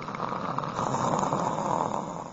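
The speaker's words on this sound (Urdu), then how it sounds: "یہ جو فضول لوگ یہاں پہ خراٹے مار رہے ہیں" People snore in a steady, continuous rasping drone that is moderately loud and close, with no pauses or talk over it.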